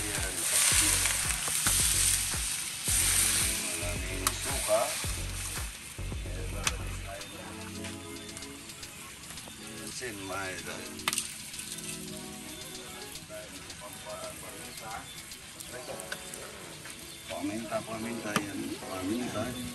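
Garlic and aromatics sauté in hot oil for gourami paksiw, a loud close sizzle with stirring scrapes that thins out after the first few seconds into softer frying.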